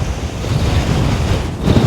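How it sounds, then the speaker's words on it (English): Strong wind buffets loudly and continuously in the snowy Cairngorms mountains, with a rushing roar that sounds like surf, close and unbroken. "get out of this wind, get out of the snow"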